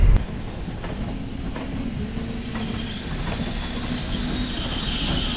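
A suburban electric MEMU train bound for Gummidipoondi rumbles past close by near Chennai, steady wheel noise and faint clicking on the rails, with no talking.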